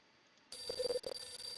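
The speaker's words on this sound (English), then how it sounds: "The phone's ringing." A telephone in the Hotel Dusk video game begins ringing after a short near-silence, its bright electronic bell sounding in a couple of quick bursts, clear and close with no voices.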